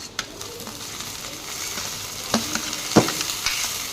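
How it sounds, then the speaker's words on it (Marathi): Onion and green chillies frying in a pan for besan, a close crackling sizzle with occasional stirring scrapes and clicks over a few seconds. "कांदे आता छान लालसर परतले आहे यामध्ये मी आता ओली मिरची घालत आहे"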